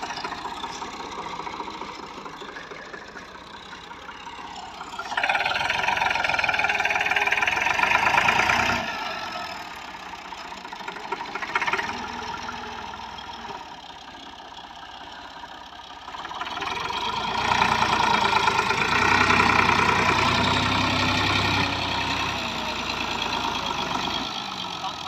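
A Massey Ferguson MF 260 diesel tractor engine runs steadily nearby, its drone swelling and easing in waves as it idles and revs.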